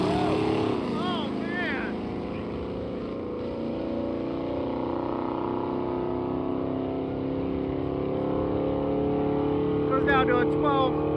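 A turbocharged race car launches hard off the line, its engine roaring loud and sustained with rising revs, while people exclaim over it.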